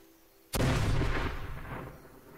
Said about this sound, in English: You're seriously gonna waste a grenade on one of them.